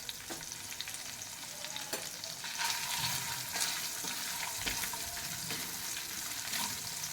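Turmeric, asafoetida and spices crackle and sizzle in hot oil for batata poha, a steady close frying hiss with occasional stirring scrapes throughout.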